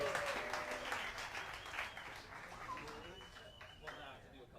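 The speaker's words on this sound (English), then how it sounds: "You can keep applauding. He needs it." A crowd applauds as a performer walks onstage at a loop station music competition final, scattered claps fading from moderate to softer, with speech from a host above them.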